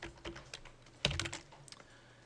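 Typing on a computer keyboard for a design drawing, a few quiet close keystrokes with a sharper cluster of taps in the middle, alone and without speech.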